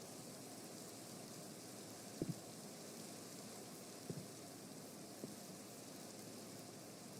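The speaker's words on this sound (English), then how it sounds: "It's raining." Steady rain falls in the Minecraft game on the Hypixel Skyblock server, a constant soft hiss throughout with a few faint, brief taps.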